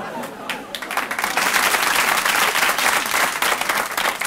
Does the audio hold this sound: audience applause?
yes